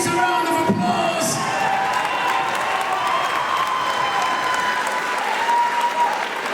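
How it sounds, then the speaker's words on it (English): Crowd at an amateur boxing event applauding and cheering after a three-round bout, a loud sustained wash of clapping with shouts and whoops mixed in, continuing evenly throughout. "Please give these warriors a round of applause."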